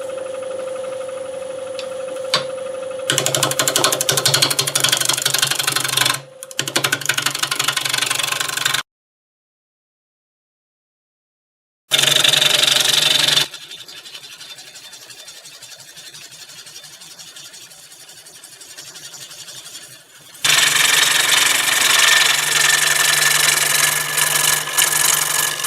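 A wood lathe spins a green apple bowl blank at 725 RPM, giving a steady motor hum and rumble in several bursts of varying loudness, with a few seconds of silence between them.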